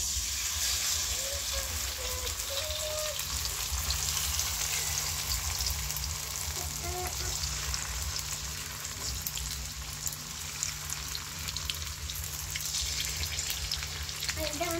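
Fish sizzles steadily in a frying pan, a continuous crackling hiss with a low steady hum underneath and a few faint tonal bits, no speech.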